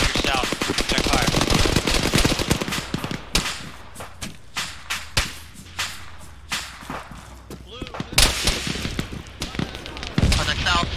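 Gunfire in Arma 3 during a shore assault, sharp rapid cracks and machine gun bursts at varying distances, some loud and close, others fainter, with people talking over the shooting.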